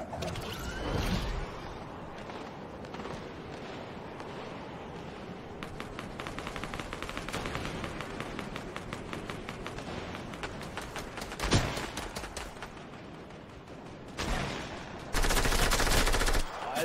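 Gunfire in the video game Fortnite: rapid bursts of automatic fire and single shots crackle repeatedly over a busy game soundscape, with loud sharp volleys near the end.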